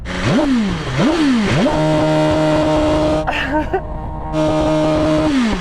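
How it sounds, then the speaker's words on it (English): A BMW M superbike engine revs up sharply three times, then holds a steady high idle drone with a brief blip, loud and close. "Go on, Chris, let's have a listen to your BMW"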